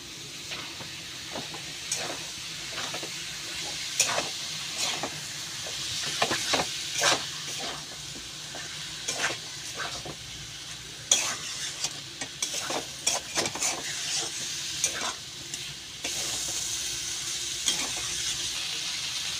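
Mashed banana flower with spices drops into a hot pan and is stirred, giving a steady sizzle with repeated scraping strokes of a spatula, close and clear.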